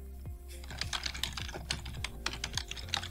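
Quick, light keystrokes on a computer keyboard, close and fairly quiet, tapping in an uneven rhythm with no voices.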